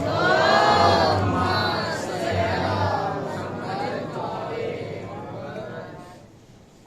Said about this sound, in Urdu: خوشنودی جناب سیدہ زہرا سلام اللہ علیہ کے لیے بلند ترین صلوات ہدیہ فرمائیں۔